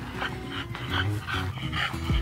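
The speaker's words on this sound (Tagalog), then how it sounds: "At yung dalawang aso nga ay nakakulong." Two dogs kept in an enclosure beside rice paddies pant steadily and let out a few soft whimpers and yips, close by and fairly quiet, with no one speaking.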